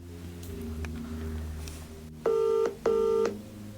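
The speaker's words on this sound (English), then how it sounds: "I need to pick up the phone to Paula" Telephone keypad dialing before a call to a creative director, two clear touch-tone beeps in quick succession, each about half a second long, sounding close after a quiet background hum.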